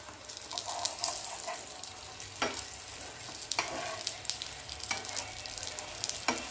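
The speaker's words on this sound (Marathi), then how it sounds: "खालीवर करून सगळं करून भाजून घ्यायचं मस्त खरपूस होईपर्यंत वांग" Slices of brinjal fry and sizzle steadily in a pan over high flame, with sharp scraping clicks as they are turned over, close and continuous with no talking.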